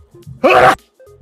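A single sharp, loud sneeze bursts out during a relaxed podcast conversation, lasting under half a second between quieter stretches.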